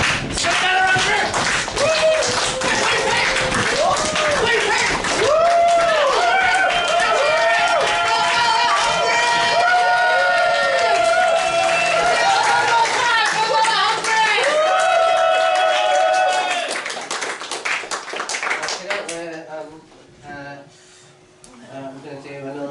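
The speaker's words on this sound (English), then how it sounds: "Get clapping your hands for me, please." A comedy-show crowd claps hands in a room. The rhythmic clapping carries on beneath loud, excited voices and cheering, then thins out and fades near the end.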